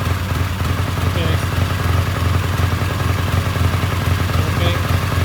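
A Triumph T140V motorcycle engine runs close by at a steady idle, a loud, even, throbbing low rumble with mechanical clatter and no change in revs throughout.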